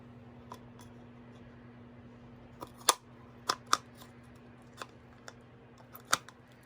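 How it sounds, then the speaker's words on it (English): Scissors snip down the seam of a plastic pot in a few sparse, sharp crunchy cuts with pauses between them, close and fairly quiet against a steady low hum. "You want to take your scissors, and you'll see a seam running down the side of the pot."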